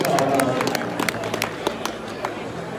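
At an awards show, an audience gives a short burst of clapping and applause with scattered whoops and crowd chatter, loud at first and then thinning out over a few seconds.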